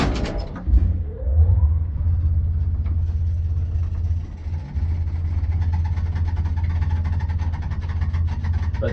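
A 1983 KMZ traction elevator in a Riga apartment block hums with a steady low motor rumble while running, with a door clunk and rattling near the start and a brief jolt midway, without talk.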